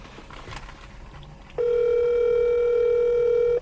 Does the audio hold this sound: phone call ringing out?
yes